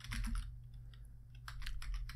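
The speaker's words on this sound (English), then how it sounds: "We have to type in sudo" Someone types a pip install command on a computer keyboard during Raspberry Pi setup, producing quick close clicks and taps in short clustered bursts over a low background hum.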